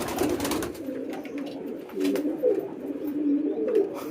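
Pigeons coo steadily in low, rolling murmurs, with a brief burst of fluttering near the start as frightened pigeons fly off.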